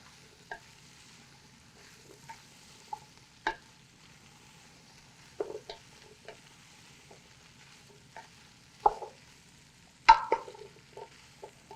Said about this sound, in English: then I think I'm just about okay to add my broccoli. Give that a stir a bit too.